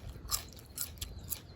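Three crisp bites into fresh garden peas, close up, each a short crunchy burst with faint chewing between and no talking.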